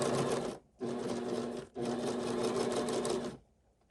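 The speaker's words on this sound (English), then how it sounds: "any excess fabric, as I'm holding this down here, will get eased in by my sewing machine and going slow" A home sewing machine stitches fabric for a six-panel welding cap in three quick motor bursts, the middle one longest, each separated by a brief pause.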